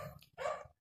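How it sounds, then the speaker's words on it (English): A single short dog bark, faint and brief, sounding at a distance behind a quiet room. "excuse the barking"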